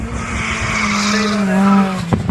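Drift cars with squealing tires at Castle Combe, a 1000bhp chase car and a Kevlar-carbon M2 during a drift session, tires shrieking in a long sustained wail over engine roar, close and loud, ending in a few sharp bursts.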